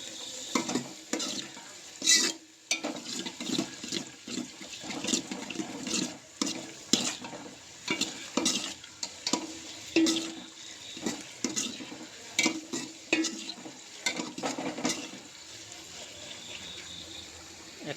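Onions fry in a pan with a soft, continuous sizzle, while a utensil stirs and scrapes the pan in repeated, irregular strokes. The stirring sounds are close and moderately loud and continue throughout.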